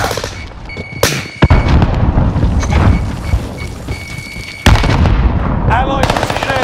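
In Call of Duty Warzone, a grenade bursts amid heavy gunfire with rapid automatic bursts and sharp booming blasts, including two big detonations, while players talk over the action.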